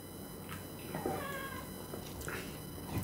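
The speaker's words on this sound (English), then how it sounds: "Louie, he's meowing again" A house cat meows a few times in a room, fairly close, over a steady low background hum; no one talks.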